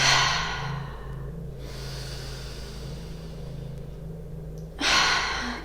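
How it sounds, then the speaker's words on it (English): Deep breaths during a yoga session, with a long airy exhale through the mouth at the start and another strong breath near the end, close and alone with quiet between. "as you inhale, squeeze the shoulders to your ears. Exhale through the mouth."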